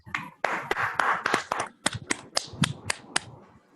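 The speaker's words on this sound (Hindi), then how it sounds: "हम चाहेंगे दोस्तों कि हम सभी इसके लिए एक जोरदार डिजिटल तालियां करते हैं।" Several separate hand claps land one after another during an online business opportunity meeting, at first overlapping in a loose cluster and then thinning into sharp, evenly spaced single claps that fade out near the end.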